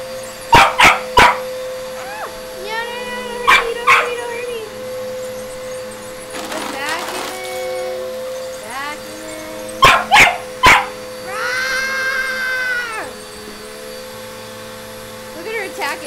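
A puppy attacking a running vacuum cleaner gives sharp, loud barks in quick clusters, plus whimpering and yips, over the steady drone of the vacuum. A person speaks at moments between the barks.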